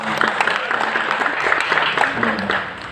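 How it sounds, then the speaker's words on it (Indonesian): Clapping from the audience at an inauguration ceremony, a moderate, fairly close patter of many hands with a few louder individual claps, tailing off slightly toward the end. "Kasih tepuk tangan dong."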